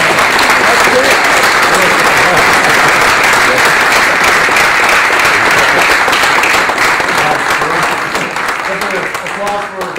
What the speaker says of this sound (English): Applause for Professor Wolf.